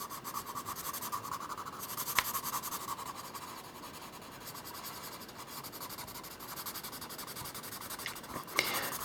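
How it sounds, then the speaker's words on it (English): Colored pencils scratch and rub steadily across paper at close range, a soft continuous grainy texture with a few sharper strokes, no talking. "I love the sound of colouring pencils"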